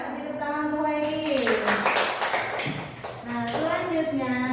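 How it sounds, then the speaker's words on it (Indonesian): A classroom of pupils claps for a classmate, a loud burst of many small hands in the middle while children's voices chatter and sing over it before and after. "Beri tepuk tangan untuk Khairi."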